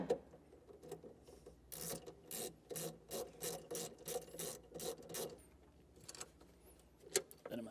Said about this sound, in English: Just take that nut off, pop on our wire, and then the nut can go right back on.